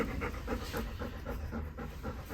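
A dog pants in quick, rhythmic breaths close by. The panting is fairly loud and steady, with no talking.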